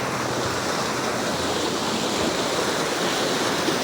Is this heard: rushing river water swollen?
yes